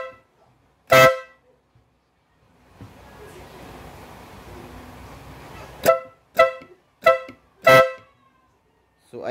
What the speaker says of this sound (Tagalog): So kita nyo naman mga gaw, compact horn.